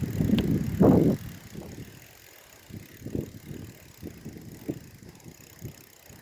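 Bicycle ridden over bumpy ground outdoors, with irregular rattles and soft thumps from the frame as it jolts, after a louder gust of wind at the start.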